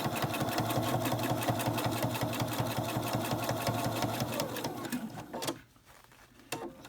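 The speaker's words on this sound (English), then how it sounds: "just sew this bottom third on the bottom right along their previous stitching using your 1/4 inch seam allowance" Sewing machine sewing fabric for a Japanese bento bag with a quarter-inch seam allowance, a steady fast mechanical stitching rhythm heard up close that slows and stops after about five seconds.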